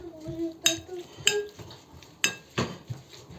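Utensils clink and scrape against a bowl in several sharp strikes as shawarma salad ingredients with paprika and ground pepper are tossed together, with soft rustling in between.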